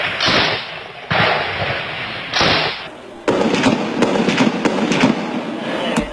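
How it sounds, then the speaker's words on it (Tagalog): Gunfire during street fighting between soldiers and Maute militants in Marawi, with loud sharp bursts and cracks, several separate volleys in the first half, then dense rapid shooting echoing off buildings, close and continuous. "Kapag may nasilip na teroristang maute, agad nilang pinuputukan."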